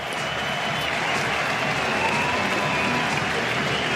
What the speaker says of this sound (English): many in the Holly stand on their feet to applaud Stokes out to the middle